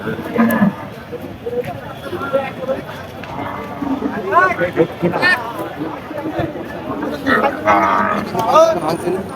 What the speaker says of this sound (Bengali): অনেক সুন্দর একটা গরু